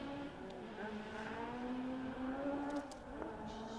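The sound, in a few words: rally car revving down a straight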